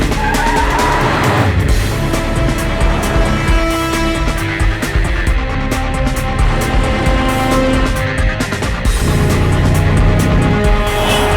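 A car skids across the middle of a road, tires squealing loudly in long screeching bursts over a revving engine, the squeal rising and falling for several seconds with no voices over it.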